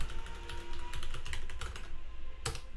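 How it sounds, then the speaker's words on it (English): Keys clatter on a computer keyboard as a password is typed, a steady run of close, quick clicks with a brief pause and one louder burst near the end. "So I'm going to type it in right here."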